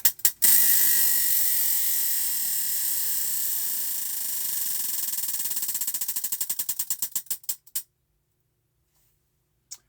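A prize wheel spun to pick a crochet stitch makes a rapid clicking ratchet that gradually slows into distinct, spaced clicks before stopping, loud and close, with one stray click after a pause.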